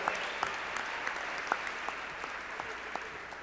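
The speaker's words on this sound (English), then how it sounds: "Can we give another round of applause?" Steady audience applause after a performance at an MLK tribute celebration, an even spread of clapping heard from a distance at a moderate, fairly soft level throughout.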